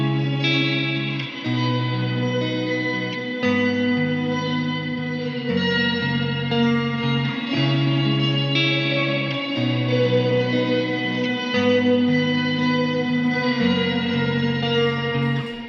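Ambient electric guitar washed in octave and reverb effects plays sustained, shimmering drone chords over a backing track, the chords changing roughly every two seconds in a smooth, continuous bed of sound.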